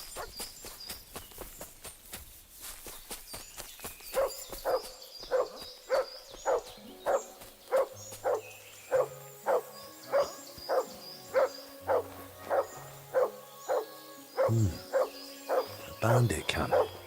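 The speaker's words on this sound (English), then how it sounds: "Sit and bark." A dog in Kingdom Come: Deliverance II barks on command, giving a long run of evenly spaced, sharp barks that starts a few seconds in and repeats steadily at close range over faint game ambience.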